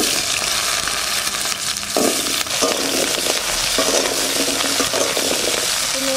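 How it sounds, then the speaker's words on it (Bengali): Taro pieces fry lightly in a little mustard oil in a wok for a country chicken curry, with a loud, steady sizzle and the occasional scrape of stirring throughout. "সর্ষের তেল সামান্য দিলাম, আমি কচু কটা একটু হালকা ভেজে নেব।"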